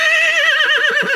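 A horse's loud, close whinny rises and wavers for about a second, a quavering high call with pulsing lower breaths beneath it, heard alone during grooming.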